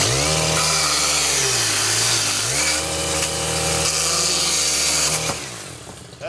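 A chainsaw roars loudly up close as it cuts through deck timber during demolition, its engine pitch dipping and rising under load before cutting off at the end.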